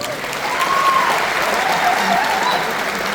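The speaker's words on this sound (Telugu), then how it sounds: "మనందరం వారు ఒక్కసారి ధన్యవాదాలు చప్పట్లు కొట్టున్నాము." Audience applause in thanks at a song event, a short burst of dense clapping from a crowd with some faint voices mixed in.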